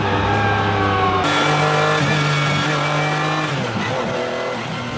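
A loud McLaren F1 LM race car engine roars and revs continuously, heard in the cabin, its pitch climbing and dropping as it shifts, with straight-cut transmission gear whine throughout.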